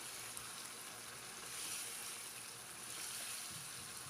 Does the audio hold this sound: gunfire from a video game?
no